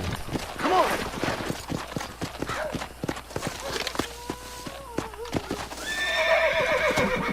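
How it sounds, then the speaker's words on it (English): Horse in Red Dead Redemption, clip-clopping hooves in a quick steady rhythm beneath repeated neighs and whinnies, with a louder, high whinny near the end and someone talking over it. "O cavalo vem doidão. O cavalo canta nesse aí, né?"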